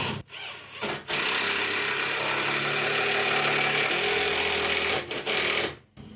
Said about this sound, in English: I'm just going to drive a screw